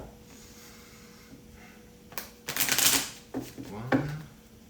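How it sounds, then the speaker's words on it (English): Tarot cards being shuffled quickly during a birthday tarot reading, giving a few short papery riffling bursts, the loudest near the middle, with quiet background before. "Give this a quick shuffle."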